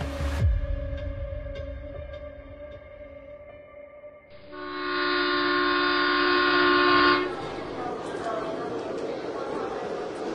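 A train pulls in with a long, loud horn blast over a rumbling, throbbing engine and rolling wagons, then fades to the clatter of cars on the rails.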